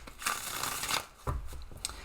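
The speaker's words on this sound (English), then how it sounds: "Give this a little bit of a shuffle." A deck of tarot cards being shuffled by hand at close range, quick papery riffles and flutters in short bursts.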